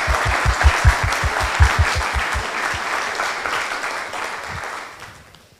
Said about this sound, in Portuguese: que vocês recebam uma salva de palmas da igreja